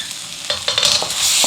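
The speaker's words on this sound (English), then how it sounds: "We almost burned the soy sauce because we want that caramelized soy sauce." Soy sauce sizzling and caramelizing in a hot pan, with a steady loud hiss and a few brief scraping stirs, no talking.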